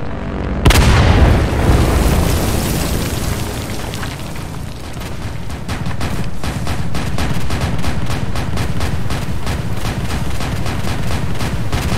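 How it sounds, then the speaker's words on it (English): Battle din from the War of the Worlds: Combat game, with a heavy boom at the start followed by constant rapid gunfire and explosions, loud and dense for the whole stretch. "Keep shooting, keep shooting."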